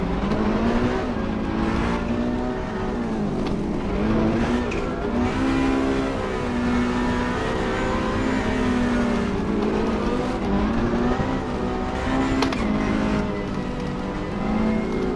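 A GT race car in Assetto Corsa Competizione on the PS5 revs hard while power braking, its engine note rising and falling in loud, sustained sweeps with faint tire squeal and no speech.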